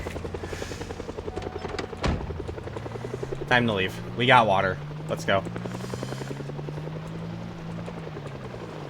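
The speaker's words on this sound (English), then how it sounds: "they're following the chopper" Game helicopter in a zombie survival game droning steadily with rhythmic rotor thumps, loud and continuous under short bursts of a man's speech.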